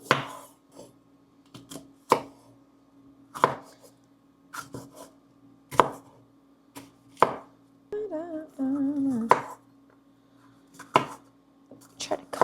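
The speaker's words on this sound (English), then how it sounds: "let's get dicing up these veggies" A knife dicing vegetables on a cutting board, with sharp, close chops in an irregular rhythm and a short rustle of handling partway through.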